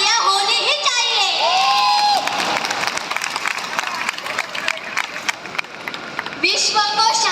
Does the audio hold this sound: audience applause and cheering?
yes